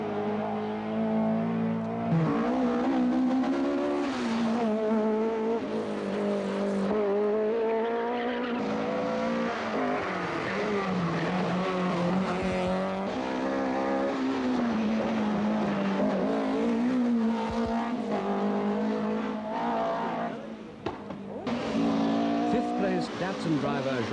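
Datsun rally car prepared by Dawson, driven by Jean-Louis Dumont on a 1982 Ypres rally stage, engine droning and revving steadily with tyre noise, heard under continuous commentary.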